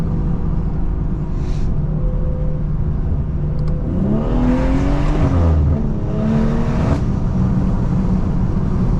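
A 500hp B58-engined car accelerates, its engine note climbing and shifting as it pulls hard, loud and close over a constant road and cabin rumble.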